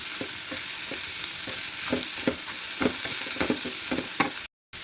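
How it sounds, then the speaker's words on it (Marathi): A spoon stirs potato, tomato and cauliflower frying in a pan for sambar, with repeated scraping strokes over a steady close sizzle and no talk, ending in a brief cut to silence. "चांगलं हलवून घ्यायचं"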